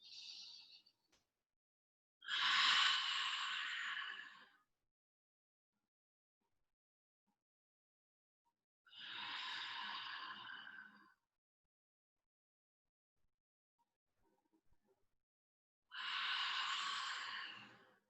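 Slow, deep breaths during a Kundalini meditation practice, three long soft airy breaths spaced several seconds apart in quiet surroundings, close and alone with no talk.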